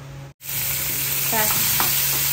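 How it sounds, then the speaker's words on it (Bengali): Prawns sauté in mustard oil with a loud, continuous sizzle after a brief cutout, plus a couple of faint stirring clinks and a steady background hum. "এবার চিংড়িটা একটু হালকা সতে করে তুলে নেব"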